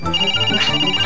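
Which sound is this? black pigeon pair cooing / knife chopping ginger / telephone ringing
telephone ringing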